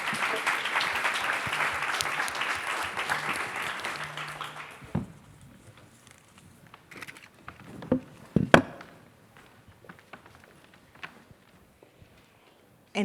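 A conference audience applauds a panel with dense clapping that lasts about five seconds and then dies away, leaving scattered faint taps and rustles in a quiet room.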